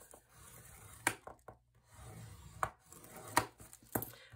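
Paper is scored on a scoring board with a few quiet, sharp scraping strokes and soft rubs, heard close up in a hushed room with brief pauses between them.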